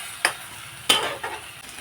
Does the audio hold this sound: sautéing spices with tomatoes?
yes